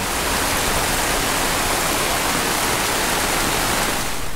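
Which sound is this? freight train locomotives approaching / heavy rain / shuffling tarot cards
heavy rain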